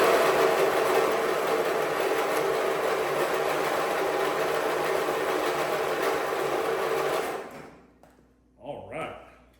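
A Lawn Chief tractor engine cranks over on a start attempt: a loud, steady mechanical whir runs for about seven seconds, then cuts off, leaving a few brief knocks and clunks.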